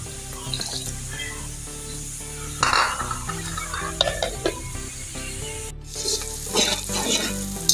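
Onions frying lightly in a pan before chicken goes in, with a steady sizzle and occasional stirring scrapes and clinks, close and moderately loud with no talking.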